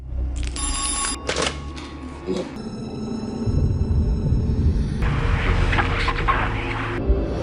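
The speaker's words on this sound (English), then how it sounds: "그때 전화가 걸려오고" A telephone rings in a movie scene, with two bright electronic ring bursts and then a sustained ringing tone over a low rumbling backdrop.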